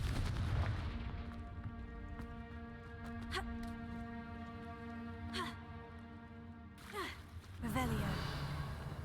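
The Confringo fire spell in Hogwarts Legacy sets off a burst of blasts and booming impacts over ongoing game sound, with a few sharp cracks and a louder flurry of hits toward the end.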